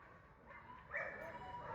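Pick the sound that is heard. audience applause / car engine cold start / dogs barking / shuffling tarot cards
dogs barking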